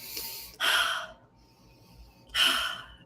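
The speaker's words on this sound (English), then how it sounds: "Taking a few deep breaths." A person takes two deep breaths, each a slow audible inhale and exhale, close and clear against a quiet room.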